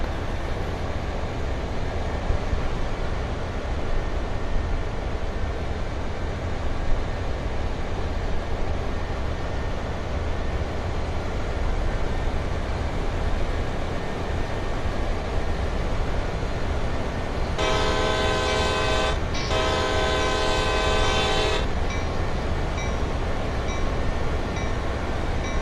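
A diesel locomotive making a hill start in Train Sim World 2 on Sand Patch Grade, a steady, loud engine rumble with rail noise throughout, broken midway by a couple of sharp horn blasts.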